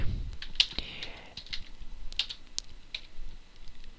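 Keys clatter in irregular bursts of sharp clicks on a computer keyboard during HTML coding, close and moderately loud with no talking over them.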